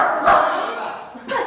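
A guard dog at a ruined house by Cala Morisca in Salou gives two sharp, fairly close barks about a second apart.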